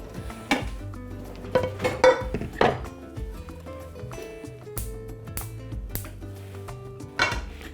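A frying pan is set on the stove while cooking onigiri, with several sharp metallic clanks and clinks of cookware and utensils spaced irregularly against a quiet kitchen background.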